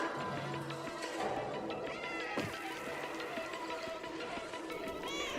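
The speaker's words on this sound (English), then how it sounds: "Oh, the cat game." Cat meowing in the video game Stray, several short mews over music and game sounds, with people talking over it.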